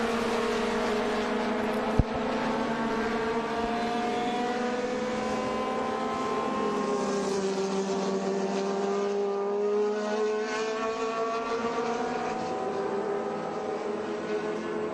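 Formula Ford and Formula B open-wheel race cars pass one after another at a road course, a steady layered engine drone with several overlapping exhaust tones rising and falling, heard at a distance and continuous throughout.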